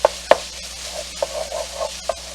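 Sausage for a steamed-bun filling is broken up in a pan with a utensil: a few sharp, irregular taps and scrapes over a quiet, steady background sizzle, with no talking.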